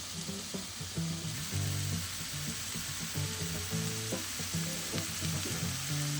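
Porcupine meatballs frying in a pan make a steady, close sizzle with soft crackles throughout, and no one speaks over it.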